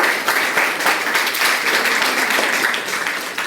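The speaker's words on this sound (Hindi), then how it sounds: "उनके लिए एक बार जोरदार ताली" An audience at an Indian stage event claps loudly and continuously in a dense, close burst of applause.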